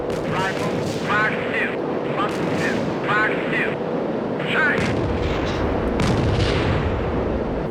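In the Strike Fighters 2 flight game, rumbling explosions and heavy booming fire roll on continuously under a man's radio-like voice, which talks through much of the clip.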